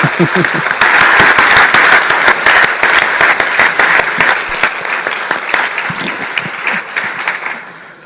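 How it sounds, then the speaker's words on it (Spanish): Loud, dense audience applause fills a lecture hall after a talk, sustained for several seconds before gradually thinning and fading toward the end. "Un fuerte aplauso, mucho más fuerte,"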